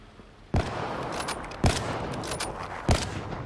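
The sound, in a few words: gunfire from the Lotus weapon in video game Black Ops 3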